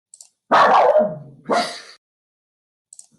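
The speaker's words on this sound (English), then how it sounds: "apologies for the dog, he's just seen the neighbor walking past" A pet dog barks at a neighbour walking past outside, two loud close barks in quick succession with a brief whimper after, otherwise quiet.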